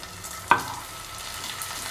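Ginger paste fries with browned onions in a pan: a steady soft sizzle with one sharp spatula clack early on, then continued light frying.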